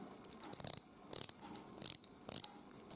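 Ratcheting bezel on a Casio Duro watch turned in four quick bursts of crisp, close metallic clicks separated by short pauses, with no talking.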